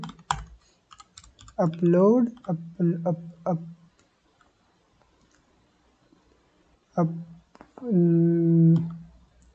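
Code for a Flutter chat app is typed on a computer keyboard. Soft, quick keystroke clicks fill the pauses between stretches of nearby Hindi speech.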